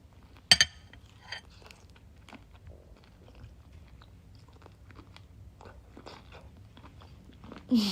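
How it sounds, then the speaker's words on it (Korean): Shrimp salad being eaten, with one sharp crunchy bite near the start, then quiet, faint chewing and small mouth sounds over a hushed background. "새우 먹어볼까?"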